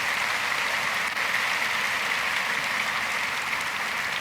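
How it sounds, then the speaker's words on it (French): A church congregation at a faith service applauds and cheers for the Lord, a dense, continuous wash of clapping from a large crowd that holds steady throughout. "Acclamez fort pour le Seigneur."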